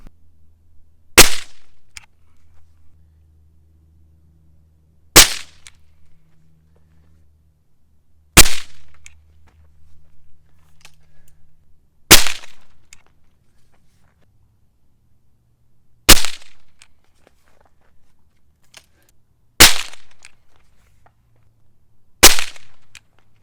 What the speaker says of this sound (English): first I think we need to fire a couple of these over the chronograph